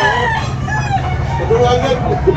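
A two-year-old rooster crows loudly and close by at a busy chicken market in Tabunok, one long drawn-out call filling the moment, with faint voices and traffic noise behind.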